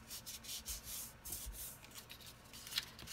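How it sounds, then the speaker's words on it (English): A folded paper binding piece for a mini photo album is burnished, producing faint, soft rubbing and scraping strokes that repeat close by with no talking. "fold towards the bumpy side and burnish"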